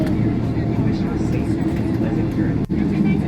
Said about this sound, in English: We are taxiing now. We are rolling to the runway.